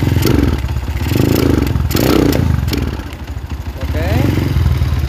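A Honda CB motorcycle with a rough-running engine, revved in several short bursts that rise and fall with clattering, uneven texture, close by while someone talks over it.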